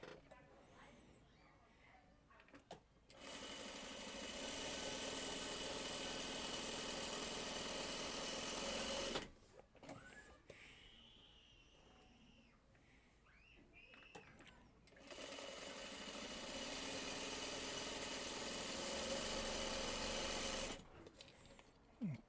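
A sewing machine stitches a Broken Dishes quilt block in two sustained runs of steady whirring, separated by a quieter pause with fabric handling and someone speaking softly.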